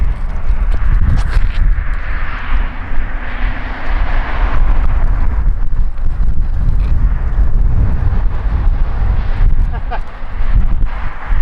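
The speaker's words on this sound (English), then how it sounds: "It's just so much wind, it didn't stand a chance." Strong wind roars across a disc golf course, heavy and continuous buffeting on the microphone with gusts rising and falling, and a voice talks partway through.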